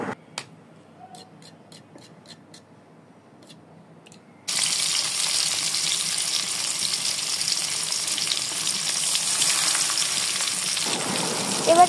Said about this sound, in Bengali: এবার কড়াইতে তেল দিয়ে এর ভিতরে মাছগুলোকে খুব ভালো মতো একসাথে ভেজে নিতে হবে।